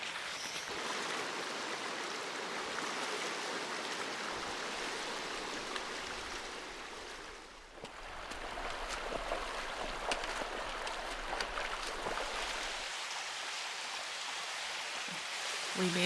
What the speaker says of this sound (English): We're beside this babbling stream